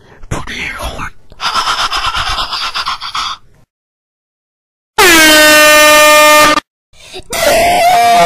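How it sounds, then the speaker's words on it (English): A loud, sustained air horn blast with strong harmonic tone that cuts in abruptly after a pause and holds for under two seconds, surrounded by cartoon characters speaking before and after. "did you scare Gelatin by using an air horn?"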